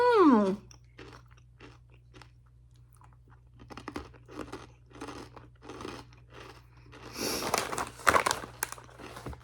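Japanese gummy bear snacks are chewed close to the mic in soft, irregular squishy bites, with a packet crinkling loudly near the end.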